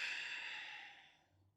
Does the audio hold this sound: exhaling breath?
yes